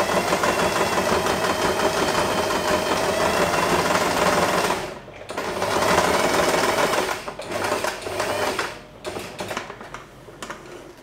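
A sewing machine runs a backstitch pattern on fabric for a scrap-fabric bow, a dense rapid mechanical whir in steady bursts, pausing briefly, then resuming before stopping in short stuttering runs.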